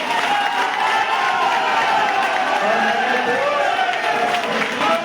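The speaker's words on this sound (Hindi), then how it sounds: "यहाँ जितने भी लोग हैं एक बार ताली बजाकर इस बात का समर्थन कर दें।" At a Rajasthan political event where new members join the Congress party, a large crowd claps steadily and loudly without pause, with voices mixed into the dense applause.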